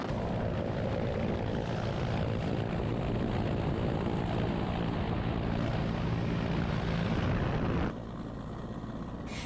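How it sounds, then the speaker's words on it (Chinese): A rescue helicopter hovers over a snowy mountain slope, its rotor and engine roar loud and steady, then dropping to a lower, thinner drone near the end. "救援直升机在空中悬停。"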